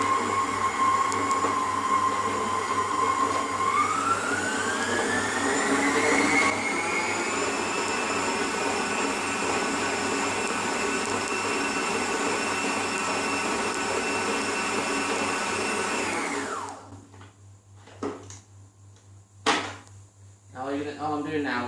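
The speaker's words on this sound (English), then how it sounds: "There's always usually a little bit of flour when you're mixing it. on a mixing machine." Mixing machine whirring steadily through cookie dough of creamed butter, sugar and flour, a loud continuous motor drone that rises in pitch early on, then cuts off, followed by a few scraping knocks.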